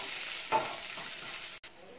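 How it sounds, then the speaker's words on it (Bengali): Chopped onion sizzling in hot oil in a pan makes a continuous close hiss with a brief louder burst of spatter near the start and a short sharp break just before the end. "পেঁয়াজ কুচিটা খুব বেশি না, অল্প পরিমাণে পেঁয়াজটা কিন্তু ভেজে নেব।"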